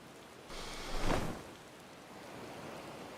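Rain falls in the Final Fantasy XIV game world as a soft, steady hiss that swells briefly near the middle and then settles back to a quiet, even wash.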